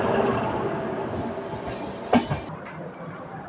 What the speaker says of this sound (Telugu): Entering Malkajgiri railway station.